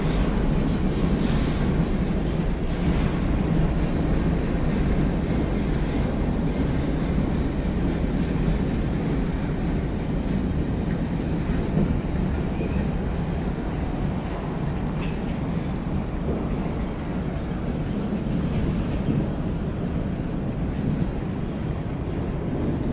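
Manifest freight train with a rear DPU locomotive rolling past, making a long, steady, loud rumble of wheels and railcars, with wind buffeting the microphone and no break in the noise.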